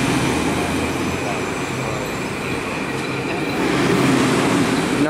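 A train passes the Park Avenue portal, a steady broadband rumble of rail wheels and cars lasting throughout and swelling slightly louder near the end, with no talk over it.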